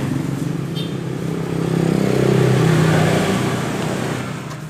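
A Honda Scoopy motor scooter engine idles and is eased up at low throttle, its mid-pitched drone swelling and fading with an uneven, slightly rough note, close by with no talk.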